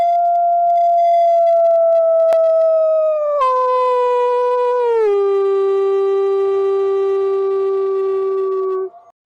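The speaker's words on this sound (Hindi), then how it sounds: "गीदड़ों की किलकारियां सुनाई दी।" A jackal howl sounds as one long, clear, steady tone that drops lower in two sliding steps, loud and unbroken, then cuts off abruptly at the end.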